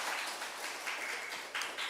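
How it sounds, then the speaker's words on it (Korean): A church congregation at a first-anniversary joint worship service applauds together, a dense, even wash of many hands clapping at moderate distance, swelling slightly near the end. "우리 박수로 우리 서로를 격려하겠습니다."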